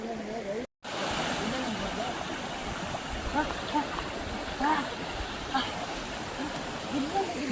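Water pours and splashes over rocks like a small waterfall in the Kolli Hills, a steady broadband rush up close with people talking over it.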